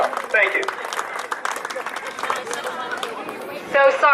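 Audience applause at an autism community evening event, a room full of clapping and chatter, with a voice speaking over the mic near the end.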